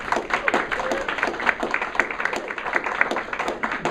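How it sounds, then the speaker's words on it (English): Audience applause after a nutrition talk: a steady wash of many hands clapping at moderate loudness, fairly even and sustained throughout. "Let's give Frank a round of applause."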